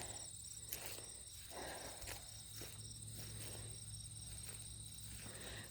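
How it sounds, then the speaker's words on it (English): Crickets chirp in steady, overlapping trills at the edge of the woods, a faint, even pulsing chorus over low background hum, with no talking. "You can hear all the crickets."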